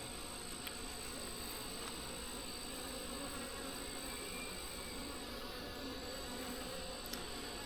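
Many honeybees buzz in an open, weak hive in a dense, continuous drone, close and steady, with no voices over it.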